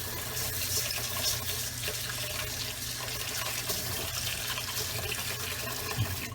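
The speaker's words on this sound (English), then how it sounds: "using cold water, just wash it" Cold water running steadily into a bowl of basmati rice being washed, a continuous close splashing flow without talk.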